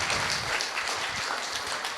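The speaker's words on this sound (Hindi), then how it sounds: "और जोरदार तालियां।" An audience applauds at the launch ceremony of the Maharishi Dayanand skill development project, a dense, steady wash of many hands clapping close and loud throughout, with no voices over it.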